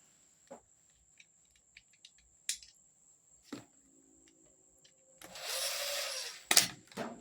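T15 Torx screws are driven into the plastic housing of a Hart trimmer: a few small taps and clicks, then a short burst of power-driver whirring near the end, with a quiet background.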